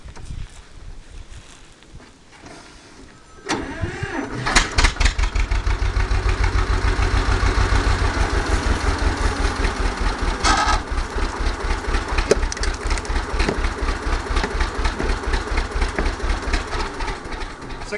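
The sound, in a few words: tractor starting up and running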